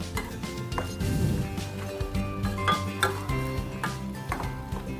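A spoon scrapes and clinks against a metal pot as garam masala is stirred into chicken dum biryani cooked in a pressure cooker, with a low sizzle underneath, steady and close with no talking.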